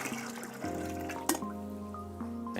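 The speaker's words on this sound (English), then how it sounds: "discard this first batch of water" Water pours steadily out of a LifeStraw Max purifier in a continuous close trickle, with tonal hum underneath and one brief clunk midway.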